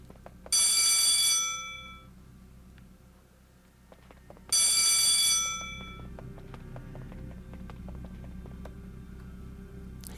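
Two loud bursts of a ringing phone-booth telephone bell in the Danville area of the video game Disney Infinity 3.0, each trilling for about a second with a gap between, followed by faint ticking game sounds.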